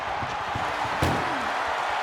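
A single heavy ambulance door slam in a WWE wrestling video game, one sharp loud thud midway through, set against a constant arena crowd roar.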